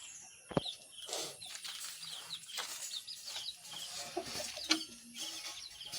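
Chickens in a homemade four-tier backyard coop give off scattered clucks and bird calls over steady background noise, with brief sharper calls and a flap or two standing out.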